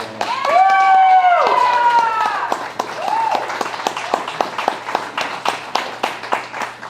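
An audience applauds a jazz combo at a pizza-restaurant concert, with loud whistles and cheers over clapping at first, then fading to sparse, distinct individual claps.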